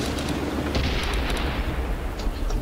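Tank cannon fire in World of Tanks aimed at a T-46, a heavy continuous booming rumble with a few sharp cracks on top, close and loud, with no voices.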